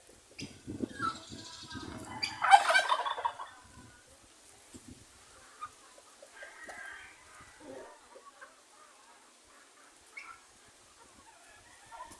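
Turkey breeders on a small farm compound call out in a few loud, raspy bursts early on, followed by scattered fainter clucks and bird sounds in an otherwise quiet yard.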